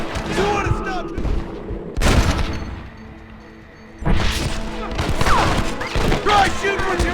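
Video game gunfire in Red Dead Redemption: several loud bursts and sharp shots at a frontier shootout, with dense clusters near the start and second half, a quieter lull between, and shouting voices mixed in.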